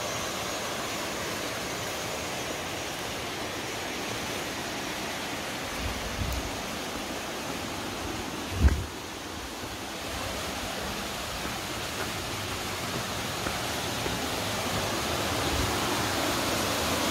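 Steady broadband rush of a waterfall in Pomerode, Santa Catarina, Brazil, a continuous, even roar filling the whole stretch, with a few brief low thumps near the middle.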